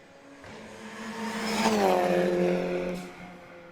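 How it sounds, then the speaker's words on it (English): A Mitsubishi Evo time attack race car at a track, its engine note rising as it approaches, then dropping through falling pitches as it downshifts and fades, heard from a distance. "Sounds like it's downshifting now."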